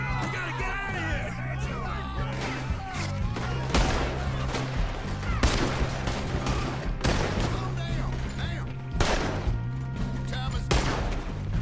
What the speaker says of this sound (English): What kind of gun is this?